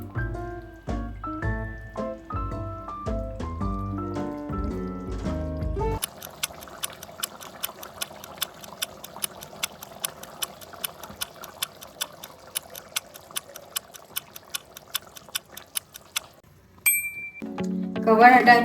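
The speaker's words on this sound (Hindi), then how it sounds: "अब बीच बीच में चलाते हुए इसको बढ़िया से थोड़ी देर तक भूंजूंगी।" Chicken pieces for a traditional Bihari-style stew fry in oil in a pot, giving a steady close sizzle broken by regular sharp clinks of a spoon stirring, after a short stretch of music at the start.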